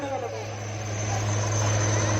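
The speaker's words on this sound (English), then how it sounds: "advanced flight helicopter is an all-weather, all-mission capable helicopter" An indigenously built Indian Navy Advanced Light Helicopter, an all-weather type, flies at a Navy Day display in Visakhapatnam. Its engine and rotor make a steady, continuous drone that holds at an even, fairly loud level throughout.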